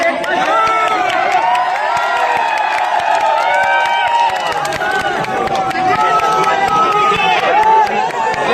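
Dense crowd cheering and clapping at a Rahul Gandhi political rally in Gujarat, loud and continuous, with whoops and overlapping voices throughout.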